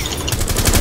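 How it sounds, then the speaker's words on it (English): Rapid automatic gunfire from the Rainbow Six Siege video game, a dense burst of shots that picks up and carries on steadily through the clip with no speech over it. "Yeah, he's trying to shoot me."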